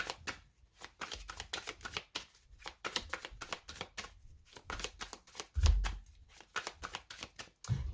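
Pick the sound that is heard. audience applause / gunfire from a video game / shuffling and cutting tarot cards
shuffling and cutting tarot cards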